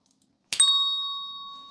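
A single bright notification bell ding strikes cleanly and rings on with a long, fading metallic tone in otherwise quiet surroundings.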